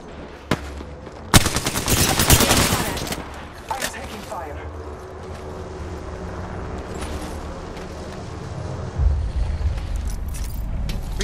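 Rapid automatic gunfire in the Apex Legends battle royale game, with loud bursts and sharp single shots that blend into a continuous dense barrage of weapon fire and in-game effects.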